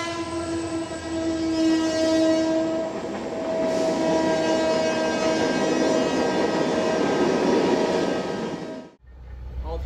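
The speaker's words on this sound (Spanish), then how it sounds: "Este equipo de maquinistas argentinos ni siquiera aminoró la marcha en el tramo inundado." A train with Argentine crew runs at speed through a flooded stretch of track, giving a loud, sustained horn blast over rumbling wheels and rushing noise before it cuts off abruptly near the end.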